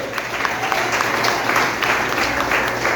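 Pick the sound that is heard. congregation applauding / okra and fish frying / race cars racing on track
congregation applauding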